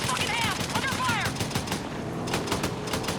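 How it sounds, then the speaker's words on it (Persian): Dense gunfire in the Battlefield 6 video game: continuous loud bursts of automatic shots with whistling, sweeping tones overhead and constant battle noise, with no pause. "حاجی انرژی نجات رو سر من داره تیراندازی میکنه"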